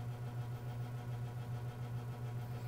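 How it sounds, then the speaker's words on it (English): A 1994 Holmes Slimline 20-inch box fan, model HABF-20, runs on high with loose parts, giving a steady low motor hum with a faint, rhythmic rattling pulse, quiet and continuous. "it's the fan rattling because everything is so loose."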